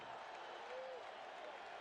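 Big baseball stadium crowd cheering for the Mets at home, a steady broad roar filling the whole stretch, fairly faint and distant, with no distinct voices standing out.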